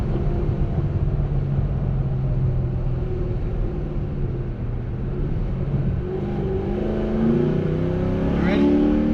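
A 2009 Pontiac G8 pulls hard in first gear on warmed-up tires, a loud, steady engine roar climbing in pitch throughout, with a faint voice underneath.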